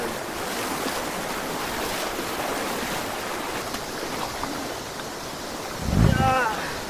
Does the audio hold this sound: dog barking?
no